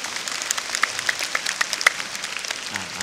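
Audience clapping at a Thai stage event, a steady scattered patter of many hands that carries on throughout.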